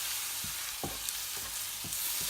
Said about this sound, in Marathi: आता हे चांगलं फ्राय करून घेऊया। परत एकदा मिक्स करूया सगळे मसाले त्याच्यामध्ये।